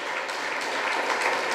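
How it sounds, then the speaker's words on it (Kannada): Audience applause in a hall at a Kulala Sangha annual general meeting and student merit award ceremony, a dense, steady round of clapping from many people, short and fairly loud. "ಚಪ್ಪಾಳೆ ಜೋರು ಕೊಡ್ಲೆ"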